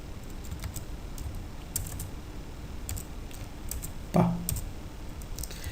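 Light, quick clicking of keys typed on a computer keyboard while entering a spreadsheet formula, soft and close over a steady hiss, with one firmer keystroke near the end.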